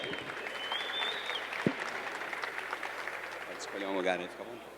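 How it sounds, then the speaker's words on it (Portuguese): Faint audience applause patters in the background while a person speaks over it. "palmas para ela também"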